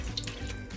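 Water runs steadily from a tap, poured into a pressure cooker of soaked moong and masoor lentils, a continuous close splashing rush with no voices.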